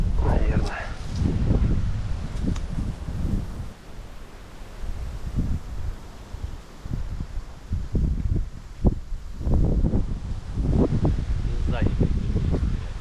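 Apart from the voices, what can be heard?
strong wind blowing during wood pigeon hunt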